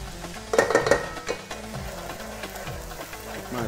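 Garlic and onion sizzle steadily in a hot pan while a utensil scrapes and clatters against it, with a busier burst of stirring near the start.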